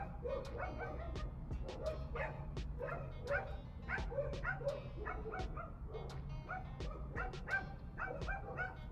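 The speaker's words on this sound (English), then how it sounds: "While the dogs are barking, let's go." Dogs barking over and over in quick, uneven bursts, fairly faint and distant above a low steady background hum, with no talking.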